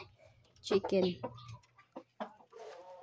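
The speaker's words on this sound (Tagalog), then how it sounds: "Look, there's a lot of chicken." Chickens cluck close by around a house under construction, a few short, scratchy clucks in quick bursts, with brief quiet gaps and some nearby talk mixed in.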